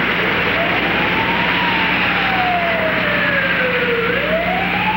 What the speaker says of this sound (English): A siren in the night, the rising and falling echo of those who hurt